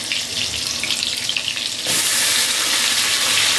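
A spice mix mixed with salt and sugar frying in a kadai: a steady sizzle that suddenly swells into a louder, brighter roar of frying partway through as the mixture goes in, close and continuous, no talk.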